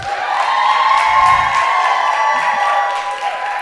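A loud comedy club audience at a stand-up special cheers and whoops continuously with scattered clapping, a dense, sustained roar throughout.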